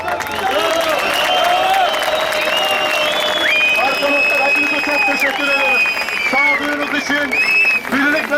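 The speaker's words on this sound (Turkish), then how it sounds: "Üretim yapmaya giren arkadaşlar alkışlarla içeri giriyor arkadaşlar" Crowd applause and cheering as workers enter the Oyak Renault factory, loud continuous clapping mixed with shouting voices and whistles, busy and close.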